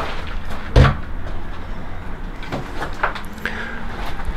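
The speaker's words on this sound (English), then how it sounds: "And that was the door to my flat." A flat's door opening or closing with one sharp thud, followed by faint creaks and rattles in a quiet room.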